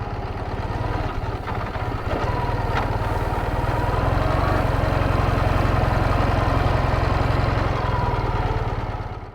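A 1995 Ural Tourist sidecar motorcycle runs in fourth gear, its engine giving a steady, loud, close throbbing drone that rises slightly and holds before fading at the end.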